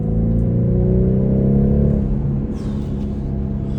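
A 2021 BMW 4 Series coupe accelerates hard, its engine rising in a loud, close, steady drone for about two seconds before easing into a lower rumble with a brief whoosh.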